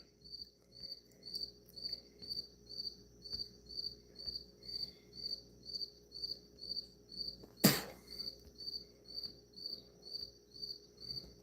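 Steady, regular cricket chirps pulse throughout, a continuous rhythmic trill of evenly spaced bursts, with one brief sharp knock partway through and no talking.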